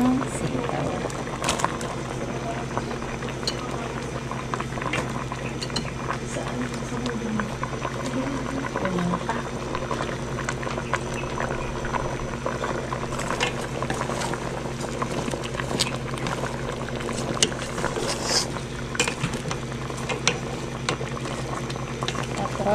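String beans and squash simmering in coconut milk in a pot, a continuous bubbling boil with small pops and clinks, steady and close.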